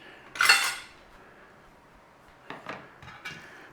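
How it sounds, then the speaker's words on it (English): Utensil clinks and scrapes against a bowl while chicken marinade is stirred, with one louder clatter early and a few lighter taps near the end, close and alone. "we'll give it a stir"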